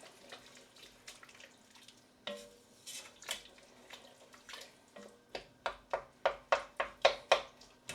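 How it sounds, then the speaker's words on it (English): A spoon scrapes and clinks around a pot of chilli con carne, soft at first, then a quickening run of sharp, regular taps and stirs toward the end. "Give that another stir."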